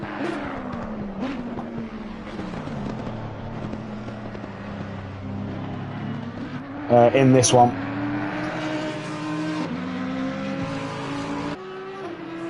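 GT3 race car engines drone and shift pitch continuously at a distance on the Spa circuit, with one brief loud burst midway; a voice talks over them.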